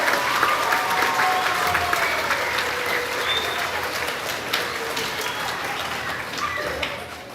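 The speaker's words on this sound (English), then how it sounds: "Let's give them a round of applause for the B honor roll" Steady applause from an audience at a grades 4–6 school awards ceremony for B honor roll students, many hands clapping densely and evenly for several seconds, with a few voices and whoops mixed in.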